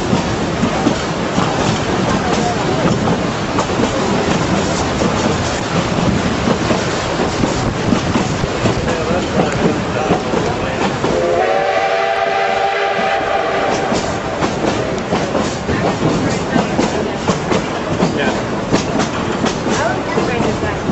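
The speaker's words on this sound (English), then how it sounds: "Hey, we're on the train. We just left Durango." Durango and Silverton railroad train rolling along its tracks, a steady loud rumble and rattle of cars with a brief horn blast partway through.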